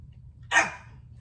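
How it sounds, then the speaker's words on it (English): A small dog gives a single sharp bark up close, standing out briefly over a low steady background hum. "oh, there's my little dog."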